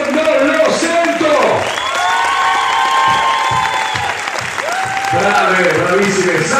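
A show audience applauds and cheers, loud and continuous, with high voices shouting and whooping over the clapping and people talking throughout.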